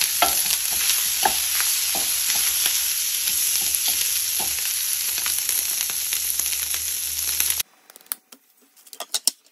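Sausages fry Mexican-style in a pan with a dense, loud sizzle and occasional scraping stirs, close by, until the sizzle drops away near the end, leaving only faint clinks and pops.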